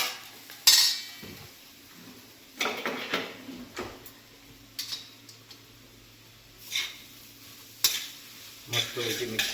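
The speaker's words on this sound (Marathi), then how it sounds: "मस्तपैकी मिक्स करून घ्यायचे असे." Poha (flattened rice) is stirred in a pan, giving a faint sizzle broken by scattered clinks and scrapes of a spoon against metal, with quiet gaps between strokes and no talking.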